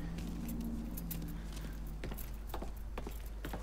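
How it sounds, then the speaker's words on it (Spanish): Truck keys jangle as they are picked up in the Mafia III video game, a few light metallic clinks over a steady low engine hum and background game ambience. "Coge las llaves del camión y vámonos cagando leches."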